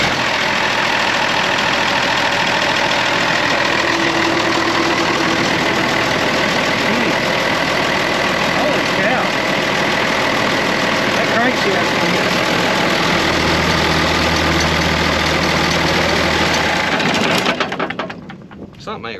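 An engine on a farm, by a broken pivot in a dry cotton field, runs loud and steady at idle with a low, continuous rumble close by for most of the stretch, then cuts off near the end.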